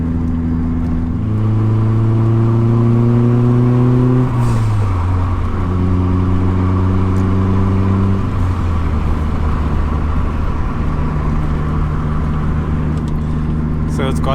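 A big-turbo 1991 Mk2 Golf GTS with a 2.0 16V engine and long TDI gearbox accelerating hard through gears, loud interior engine drone rising in pitch, then a shift, with a sluggish laggy pull and speech over it.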